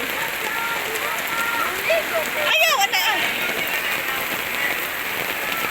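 Steady rain hisses on a surface throughout, with a few short spoken words and voices breaking in midway.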